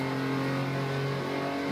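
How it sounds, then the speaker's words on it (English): A race car engine accelerates hard down a long high-speed straight on the Nürburgring in November, a steady loud in-car drone with strong harmonic tones holding throughout. "now start squeezing the power and aim the car properly because we have a long straight here"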